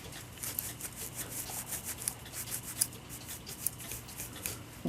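Stiff brush scrubbing compound into grime on a Seth Thomas mantel clock's works, a steady close rasping rub with quick repeated strokes and no talk.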